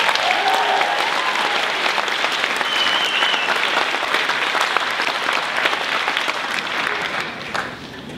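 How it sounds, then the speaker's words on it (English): An audience applauds a guest conductor at a 2017 senior awards ceremony, sustained dense clapping from a large crowd that holds steady and tapers slightly at the end. "can we please have a round of applause for our guest conductor"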